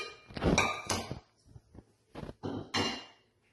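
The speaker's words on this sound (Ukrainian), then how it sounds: "Ми зараз беремо посуд, в якому будемо варити сироп." A metal pot for boiling syrup clunks and rattles as it is lifted and set down, a few short knocks and scrapes close by with quiet pauses between.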